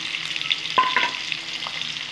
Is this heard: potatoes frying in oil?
yes